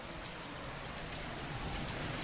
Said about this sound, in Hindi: और बहुत तेज़ है बारिश